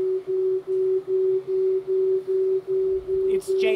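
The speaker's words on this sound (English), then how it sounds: "So it's sine waves, electronic sine waves." Steady electronic sine-wave tone representing colours, pulsing in a regular rhythm of short beats while holding one pitch, loud and close, with a brief brighter burst near the end.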